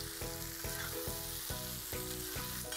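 Garlic and quail frying in a kadai for a pepper fry, with a loud, continuous close sizzle broken by regular rhythmic stirring scrapes against the pan, no voices.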